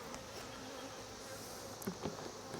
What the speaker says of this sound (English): That hive does not like being messed with.